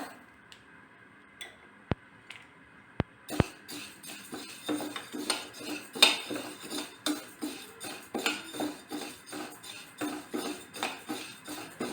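Green moong dal is dry-roasted in a pan for masala khichdi, a spoon scraping and clicking against the metal in a steady, close stirring rhythm after a few sharp initial taps.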